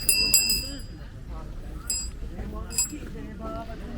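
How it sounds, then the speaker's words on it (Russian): Old, roughly made small bells found at a flea market jingle in brief bright bursts, a few separate clusters of tinkling over a busy outdoor background. "Случайно шел, увидел вот такие старые колокольчики."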